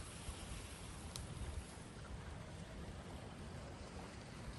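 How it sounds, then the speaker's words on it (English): River ice breaking up and moving fast downstream, a steady broadband rushing and grinding wash with no distinct breaks, continuous and fairly close throughout. "It's coming down so fast all of a sudden. It's all breaking up."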